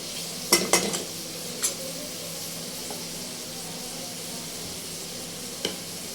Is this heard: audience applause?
no